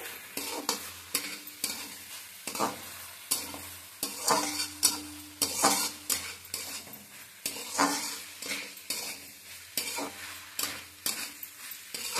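Banana stem frying in a covered pan gives a steady close sizzle, punctuated by repeated sharp scraping stirs and utensil knocks that come in an irregular rhythm throughout.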